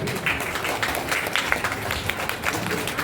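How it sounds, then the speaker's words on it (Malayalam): An audience at a gathering claps together in a steady patter of applause that carries evenly from start to finish, with a faint murmur underneath. "കൈയടിക്കുക"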